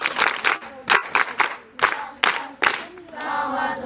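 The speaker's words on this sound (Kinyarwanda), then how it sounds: "Rero ndagira ngo mwihe amashyi mbashimira." Audience applause at a school event at The Noble Academy, with loud bursts of clapping coming in uneven waves before settling into a steadier patter.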